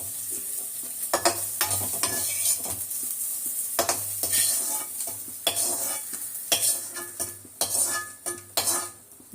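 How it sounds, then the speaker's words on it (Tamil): A spoon repeatedly scrapes and scoops sautéed bitter gourd (pavakkai) out of a hot pan, with steady close clinks and scrapes over a soft background sizzle. "இப்போ இந்த வதக்கின பாவக்காவை நம்ம அள்ளி வச்சுக்கலாம்"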